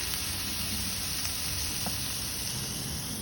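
Peppers and quesadilla fillings sizzle steadily in a solar kitchen, a continuous close frying hiss with faint stirring clicks throughout and no voices.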